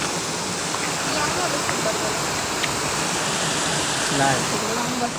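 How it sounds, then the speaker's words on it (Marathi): A small river runs with a constant rushing, splashing wash of water near a village trail in Raigad. The flow is close and steady, with faint scattered sounds from people crossing on foot. "ही छोटीशी नदी आता मी पार केली बघा"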